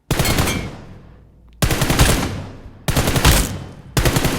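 Automatic gunfire in a mobile shooter video game comes in three or four loud, rapid bursts, each followed by a short decaying pause before the next.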